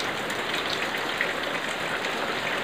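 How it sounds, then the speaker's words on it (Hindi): Heavy morning rain pours down steadily outdoors, a dense, even hiss that stays loud and close from start to finish, with no voices. "सुबह सुबह बहुत ज़ोर से बारिश हो रहा है"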